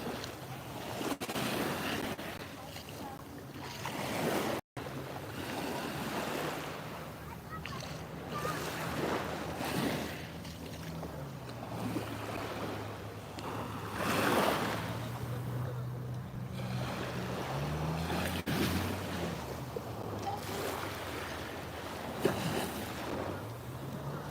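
Mediterranean sea waves on the French Riviera after a thunderstorm wash in and recede in slow surges, with wind buffeting the microphone and faint voices in the background.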